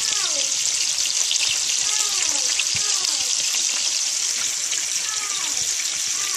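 Homemade beef sausage fries in a pan for breakfast with a steady, close hiss and crackle of sizzling fat running unbroken throughout, as faint voices speak underneath.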